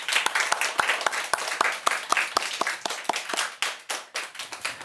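A church congregation applauding together, a dense run of sharp claps in a steady rhythm lasting several seconds, moderately loud in a room and fading slightly toward the end.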